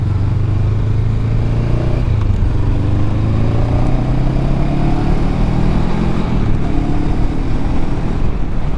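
Motorcycle ridden at steady speed with a continuous loud engine drone, the pitch rising and falling as the throttle is opened and eased, with wind rush throughout.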